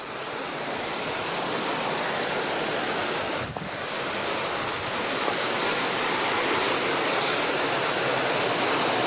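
The Bhandardara waterfall in Maharashtra roars as a dense, unbroken rush of water, loud and close, filling the whole stretch.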